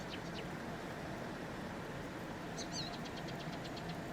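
Tractor engine in Farming Simulator 19 strains while pulling a cultivator through a field, giving a steady, dense low rumble that holds level throughout, with faint bird chirps above it.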